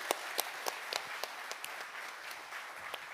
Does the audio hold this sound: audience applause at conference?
yes